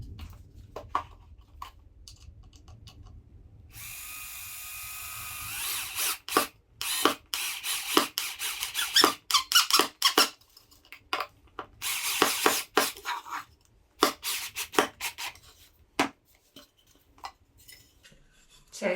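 A power drill drives screws into the wooden frame of a children's sand and water table during assembly: several short, close whirring bursts separated by pauses, with light handling knocks and rubbing between them.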